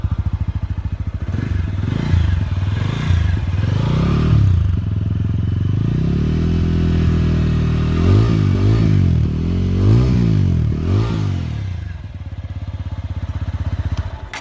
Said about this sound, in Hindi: तो ये रहा एग्जॉस्ट नोट अपाचे 204V का